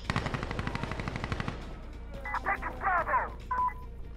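A rapid burst of automatic gunfire, then a few more short volleys with electronic beeps, sounding like game audio.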